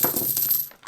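Heavy metal coins from a board game drop and clatter in a quick bright cascade, close and loud, fading out near the end.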